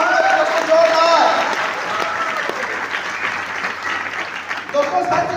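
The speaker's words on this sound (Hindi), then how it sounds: "दोस्तों तुषार सर के लिए जोरदार तालियां चाहूंगा दोस्तों, जोरदार।" An audience at a business success-story event in Raipur gives strong applause that fades gradually, while an amplified voice carries over it.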